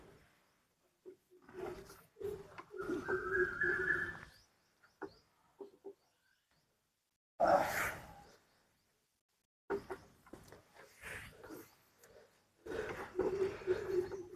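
An Asian koel gives thin, rising calls, answered by a deeper, throatier bird call; the calls come in separated bursts with quiet gaps between them, fairly close and clear, with no talking.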